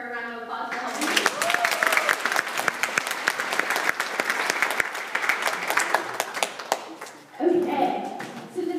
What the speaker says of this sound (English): everyone should give her a round of applause for helping me